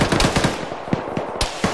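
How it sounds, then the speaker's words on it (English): Gunfire comes from a building in a military shooter game, a rapid series of sharp, punchy shots in short bursts at moderate distance, with no voices. "Shots coming from the building."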